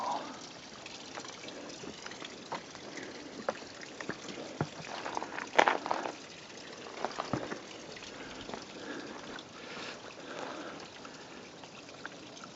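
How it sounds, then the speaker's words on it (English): Steady rushing water of a waterfall on a trail in Colorado Springs fills the clip, a continuous broadband flow with occasional louder splashes, fairly close and without speech. "And the waterfall."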